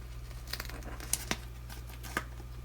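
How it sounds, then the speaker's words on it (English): A small weekend sticker being peeled from its backing sheet for a paper weekly planner, a few soft crinkling and tearing ticks close up against a steady low hum. "So let me take my little weekend sticker."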